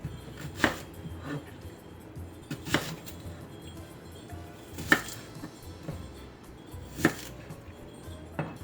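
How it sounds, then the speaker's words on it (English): A knife chops through onion on a cutting board for salsa verde, four or five distinct, evenly spaced thuds about two seconds apart, close and clear with quiet pauses between. "Cut them in pieces so you have more roasted pieces of onion."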